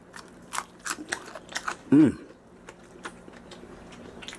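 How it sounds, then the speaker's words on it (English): Crisp, loud crunch of a bite into Chinese fried chicken, close and sharp in the middle, surrounded by smaller clicks and chewing sounds. "You hear that crunch?"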